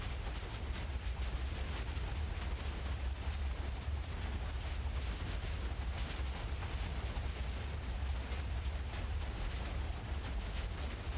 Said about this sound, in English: And we're still getting, like, summoning explosions,